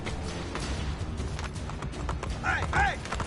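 Horse hooves clip-clopping at a gallop in the Assassin's Creed Brotherhood video game, a steady running rhythm under game noise, with a brief whinny-like call near the end and a voice talking over it.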